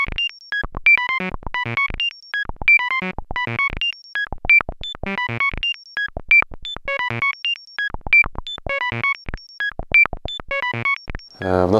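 Roland EF-303 effects processor running its Synth Bass effect with the step modulator acting as a sequencer, giving a steady, loud pattern of short stepped synth bass notes at changing pitches, repeating throughout with no voices.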